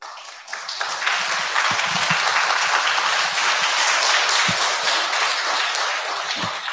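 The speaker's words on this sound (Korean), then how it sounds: "우리 박수 한번 크게 보내드립시다." Audience applause in a Daegu concert hall for a standing guest, Lee Seong-gu, at a poetry-and-music evening consoling city residents: dense, steady clapping from a sizable crowd that swells quickly and holds at an even level throughout.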